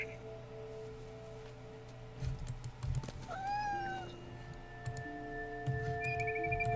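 A cat meows in the video game What Remains of Edith Finch, a rising and falling cry heard once and clearly over a steady game soundtrack with tones and ambience.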